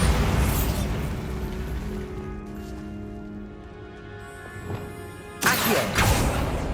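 A Bombarda spell explosion in Hogwarts Legacy: a heavy boom opens the clip and decays into a sustained rumble, then a second loud blast lands near the end.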